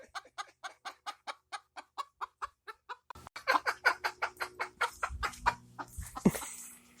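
A chicken clucks in a steady, evenly spaced series of sharp clucks close by. The clucking then turns louder and denser, with more throaty calls over faint background noise.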